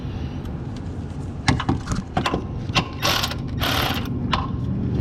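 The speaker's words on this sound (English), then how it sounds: "or a ratchet, but I have an electric one here, and we're just going to tighten it down" Electric ratchet tightening a bolt on a Prowler bumper fairing, several short bursts of rapid mechanical clicking and whirring that grow longer and louder toward the end, close up over a low background rumble.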